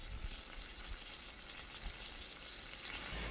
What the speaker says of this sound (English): But listen to that sizzle.